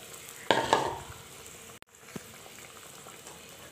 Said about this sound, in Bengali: আমি এখন মাছগুলো এখানে দিয়ে দিচ্ছি।